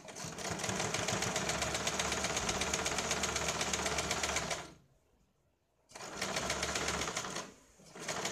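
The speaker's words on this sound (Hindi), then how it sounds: "यहाँ पे इसके ऊपर हम एक सिलाई लगाते हैं।" A sewing machine stitches a katori blouse in fast, loud rhythmic runs, pausing for about a second before starting again, then easing off near the end.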